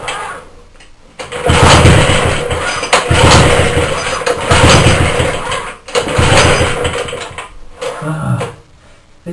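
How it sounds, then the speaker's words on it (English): A 75cc Sufflok engine being pull-started, with repeated loud surges of sputtering engine noise broken by short pauses, near and harsh, fading to quieter rumbling at the end. "This engine kills you very quickly trying to pull start it."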